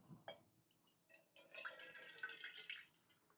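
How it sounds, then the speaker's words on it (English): Freshly pressed lime juice drips and trickles into a cocktail glass, a few soft close drops followed by a thin continuous trickle, quiet and alone. "That's the sound of the pure lime dripping."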